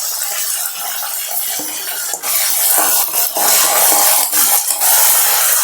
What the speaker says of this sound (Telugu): తాలింపులు అయితే వేగాలి అదిగోండి అలా వేగిపోయి కరివేపాకు వేసుకుందాం